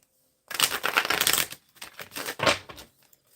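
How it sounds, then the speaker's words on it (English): A deck of tarot cards is shuffled close up in two bursts, a dense riffling flutter for about a second followed by a shorter, choppier second shuffle, with quiet gaps around them. "I was told to give it a good shuffle"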